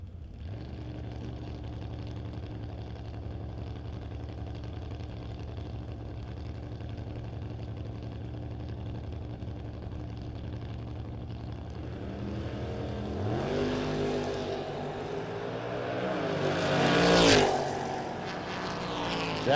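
Drag race cars idle with a steady low rumble at a No Box 660 shootout, including a fourth-generation Camaro, then engines rise sharply into a loud launch that swells and fades as the cars pull away.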